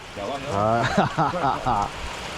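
Windy rain falls at a floating chalet by a port, a constant hiss under a person talking close by.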